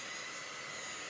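Hair dryer blowing on a chalk paste transfer, a steady close whooshing hiss with an even fan hum throughout.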